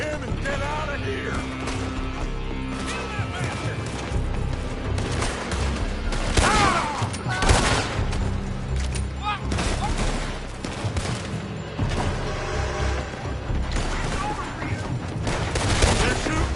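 Heavy gunfire pours from a building in a video game, with dense bursts of rifle and machine-gun shots and booming impacts continuing throughout, loud and close, while voices occasionally call out beneath the battle.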